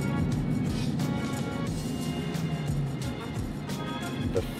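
Dodge Hellcat cruising in traffic, its engine a steady low rumble from inside the car with road noise and occasional bumps, and someone speaking over it.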